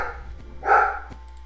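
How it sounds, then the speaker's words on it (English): A dog in a modded Minecraft beta game gives a single short bark, fairly close and clear, amid a quiet background. "my dog better stop barking"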